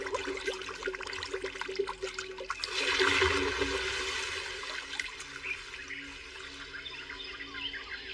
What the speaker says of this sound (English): Water, come forth.